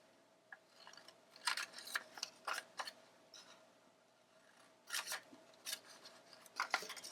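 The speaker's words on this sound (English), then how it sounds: "On the first section, I'm going to cut out 1 petal." Scissors snipping a petal shape out of a book page, a series of quiet crisp paper cuts in short bursts with pauses between, close and alone in a still room.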